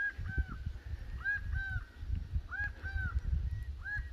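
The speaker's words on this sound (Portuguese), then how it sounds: "que ave é essa que tá cantando, ó, pássaro, olha só" Out in rural countryside, an unidentified bird gives repeated honking, goose-like calls in paired bursts, moderately close over low rumbling background noise.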